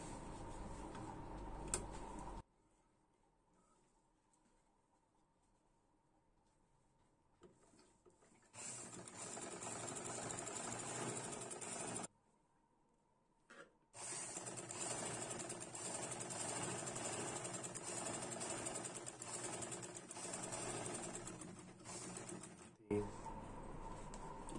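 An electric sewing machine stitches the elastic waistband of palazzo pants, running in two long, steady whirring bursts with a quiet pause between them, and a voice briefly speaks near the start.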